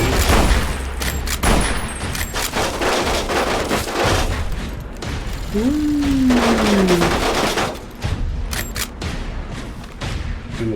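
Rapid bursts of gunfire from a modded Fallout: New Vegas game fill a wasteland firefight, dense volleys and booms continuing loudly throughout with a short swooping tone midway.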